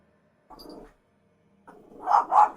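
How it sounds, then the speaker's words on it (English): A dog in the video game Dragon Age: The Veilguard gives a short bark, then a pair of louder, closer barks a moment later. "Oh, don't bark at Dimitri."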